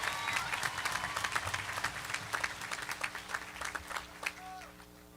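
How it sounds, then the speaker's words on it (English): A crowd claps steadily in warm, sustained applause at a high school graduation ceremony, moderately distant, gradually thinning toward the end. "Can we please give another round of applause for Shelby?"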